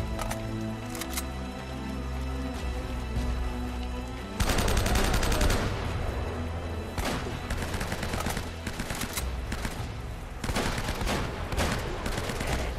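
Heavy gunfire in the video game Uncharted during a showdown: rapid automatic bursts and scattered single shots, loud and close, with a dense barrage around the middle and again near the end, over a low rumbling score.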